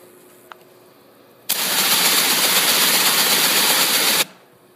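A STINGER duct cleaner motor switches on abruptly and runs up to speed, a loud steady whirring roar that holds for nearly three seconds before cutting off, with no talking.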